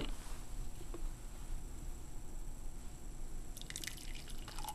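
Heated milk poured into freshly pressed French press coffee, a faint, quiet liquid trickle and dripping that grows into a brief splashing stream near the end.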